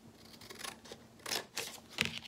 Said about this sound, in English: we're going to just cut a triangle out of that